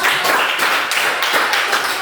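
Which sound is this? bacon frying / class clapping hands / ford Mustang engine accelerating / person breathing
class clapping hands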